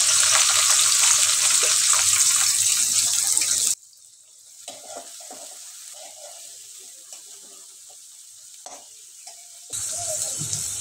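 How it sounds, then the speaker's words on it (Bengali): Chopped onion drops into hot white oil in a wok and sizzles, a loud bright hiss that breaks off abruptly, leaves a few seconds of quiet with faint stirring, then returns. "আমি ওর ভিতরে দিয়ে দেব 1 কাপ পেঁয়াজ কুচি।"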